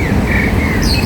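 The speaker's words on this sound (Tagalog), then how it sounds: "Dami ibon dito." Many birds chirp from trees along a street by the Tao Yin Yuan Tower, a dense chorus of close, loud tweets over steady outdoor traffic rumble.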